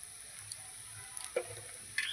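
Pulao rice in ghee sizzles softly in a pan, with light scraping and a few clinks from stirring, quiet and close with no talking.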